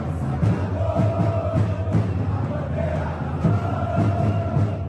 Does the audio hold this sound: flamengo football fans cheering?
yes